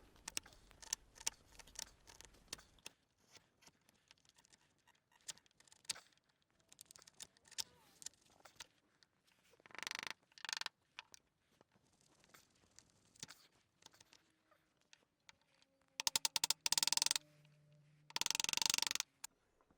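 A chisel pares thin shavings off wood for a lapped, half-mitred dovetail joint, giving soft scattered scrapes and light taps close by, with a few louder bursts of contact near the end.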